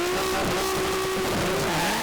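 Nissan R32 GT-R drag cars, one H-pattern and one sequential, launching side by side at a 1000hp-plus GT-R drag shootout, engines droning with tire squeal and a rising rev as one car bogs and re-clutches.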